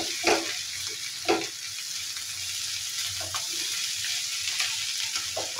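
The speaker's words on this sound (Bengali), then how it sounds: "তো আমি করলাটাকে নেড়ে দিচ্ছি" Bitter gourd and potato fry in a pan with a steady, even sizzle. A few scraping stirs of a spatula sound close over it, and no one speaks.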